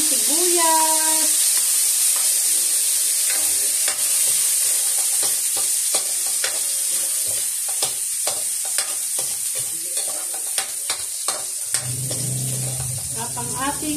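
Onions sautéing in a pan for Filipino menudo, a steady loud sizzle with scattered scraping stirs and clicks of the utensil; a voice speaks briefly at the start and a low rumble enters near the end.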